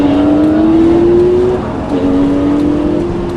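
A Lamborghini LP560 engine pulling hard on a racing circuit, a loud close drone that rises steadily, dips briefly at a gear change, then climbs again without pause.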